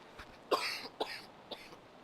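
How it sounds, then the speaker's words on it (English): Three short, sharp coughs close to the microphone, spaced about half a second apart, with quiet room noise in between. "I'm sure hearing me cough into the mic"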